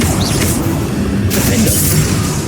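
Incendio fire spell cast in Hogwarts Legacy: a loud, dense roaring burst of fiery noise that swells and holds for a couple of seconds, with a brief dip before surging again.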